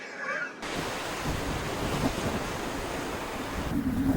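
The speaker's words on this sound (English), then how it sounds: "Windy day today." Steady broadband wind roar buffeting the microphone outdoors, constant and fairly loud throughout with a rushing, surf-like texture.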